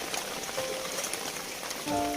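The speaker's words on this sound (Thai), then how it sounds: "ก็เห็นนะครับ ฝนจะตกอย่างเงี้ย ผมคิดว่าทั้งคืนนะครับ" Evening rain falls steadily, a faint, even hiss of drops on surfaces with no other sounds standing out.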